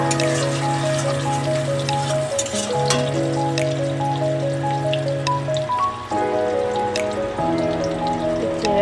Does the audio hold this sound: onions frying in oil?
yes